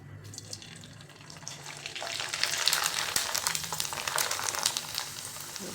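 Wheat kurdai frying in hot oil gives a loud, bubbly sizzle that swells after the first couple of seconds and keeps crackling densely and close by, with no voices.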